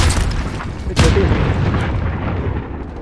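An explosion in Call of Duty Warzone, a loud deep boom hitting sharply and then rolling into a long rumbling decay, with game noise before it.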